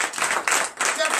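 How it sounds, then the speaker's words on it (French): A short burst of hand clapping rises during a morning prayer gathering acclaiming God, several quick claps close by, mixed with voices. "Donnez l'acclamation à notre Dieu."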